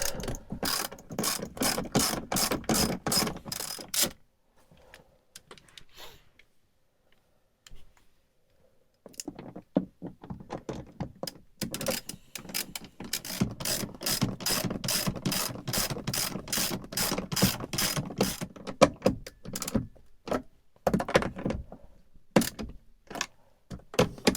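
A ratchet unbolts a grip handle inside a 2022+ Nissan Frontier with rapid bursts of close, sharp clicking, a quiet pause, then longer runs of clicks.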